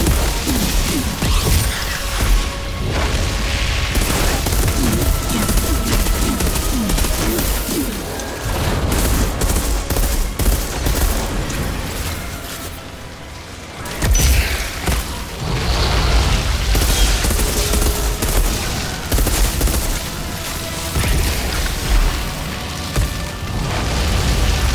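Enemies in the shooter game Outriders fire guns in dense, continuous volleys layered with booms and blasts. Brief lulls break the barrage before it resumes at full loudness.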